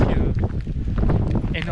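Strong mountain wind in the Pyrénées-Orientales buffets the microphone in a loud, roaring rush, heard under a person's speech.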